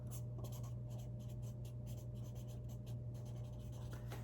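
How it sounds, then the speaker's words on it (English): A pen scratches out a note on paper in steady, close strokes with short pauses between words, over a constant low hum in a quiet room. "I'm going to write that down."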